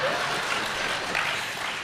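Audience applause during a Tamil television talk show, a steady dense wash of clapping that holds for about two seconds without a break.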